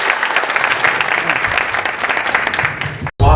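An auditorium audience at a Korean AI lecture forum claps steadily in a dense, loud wash of applause welcoming the speaker, cutting off abruptly near the end.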